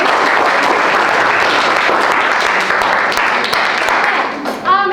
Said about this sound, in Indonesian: berikan tepuk tangan untuk kelompok 4 ya